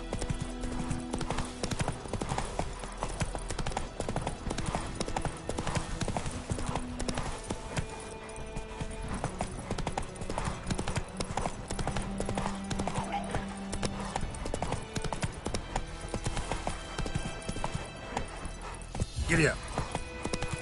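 Rhythmic clip-clop of the horse Roach galloping in The Witcher 3, quick steady hoofbeats running continuously beneath a voice and game music.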